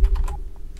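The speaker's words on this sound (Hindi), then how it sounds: "यहाँ टाइप कर देना गूगल में गूगल ड्राइव" Keys clack on a computer keyboard, a quick burst of a few close taps that then fade.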